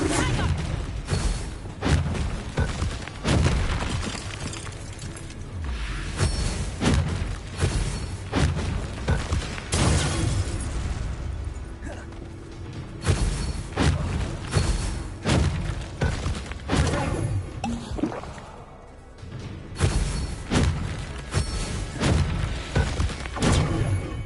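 Repeated Bombarda blasting-spell explosions in the Hogwarts Legacy video game, with dense thuds, crashes, shattering and whooshes layered into continuous loud combat noise throughout.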